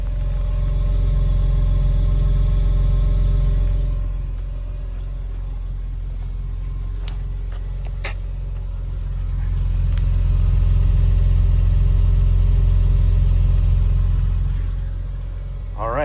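A 2001 BMW M3 Cabriolet with a 6-speed manual idles through a dual exhaust with four exit pipes, a loud steady low rumble heard up close that swells slightly in the middle and again near the end.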